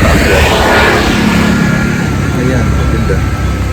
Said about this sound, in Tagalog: May konting traffic.